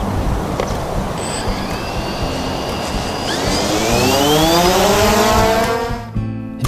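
A small camera drone flies on a sailboat, its rotors giving a loud, steady whine that climbs in pitch as it speeds up and pulls away, then cuts off abruptly.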